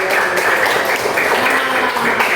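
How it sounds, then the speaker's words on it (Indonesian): A classroom audience claps together at a coding lesson on computational thinking, producing a steady, dense wash of hand claps that holds at a fairly loud level from start to finish with no voices over it. "boleh tepuk tangan dulu"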